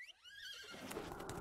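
A horse pet in the Magic: The Gathering Arena video game gives a loud synthesized whinny that falls in pitch, followed by a dense burst of game effects over the last second.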